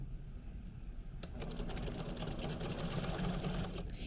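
A sewing machine topstitches a waistcoat, starting up after a quiet moment and running in a fast, steady, close mechanical rattle for the rest of the clip, with no talking.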